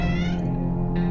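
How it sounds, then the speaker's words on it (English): A cat meows from inside a bag in the video game 60 Seconds, a sustained, clear, close meow. "That is a cat."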